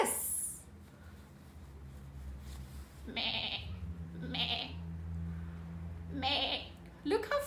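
Sheep bleating comes in three short, nasal calls spaced a few seconds apart, fairly close, with a person talking around them.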